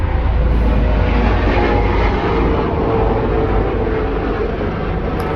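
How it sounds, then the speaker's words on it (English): A loud, steady rotor and engine rumble of a helicopter passing overhead on a German road, constant throughout with a broad roaring drone. "Helicopter overhead."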